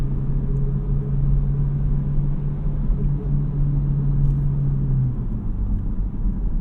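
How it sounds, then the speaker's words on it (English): A 2023 Honda Civic Type R on a wet road gives a low, steady exhaust drone with a held tonal hum, close and continuous, steady without big revs, with road rumble beneath and no talk. "I also really like the exhaust note that this car has."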